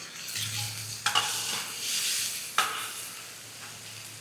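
Chicken pieces added to hot oil with ginger in a pan for a Hyderabadi chicken ghee roast, a steady close sizzle broken by a few clinks of a stirring utensil.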